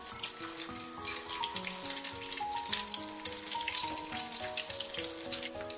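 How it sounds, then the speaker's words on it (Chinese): Lotus root meat rolls coated in egg bubble and crackle in plenty of hot oil, a dense close sizzle with lively popping spatters throughout and no speech. "接下来我们锅中加入多点的食用油，把油温烧至5成热，油热后再把裹上蛋液的莲藕肉卷一个一个的放入锅中"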